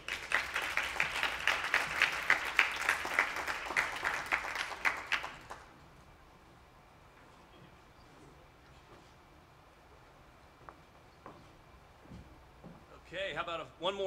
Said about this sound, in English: round of applause for David Stanton, USAID